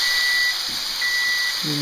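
A kitchen timer beeps faintly in short tones as it is set for a minute while cooking venison backstrap for lunch, thin and high over a steady hiss of background noise.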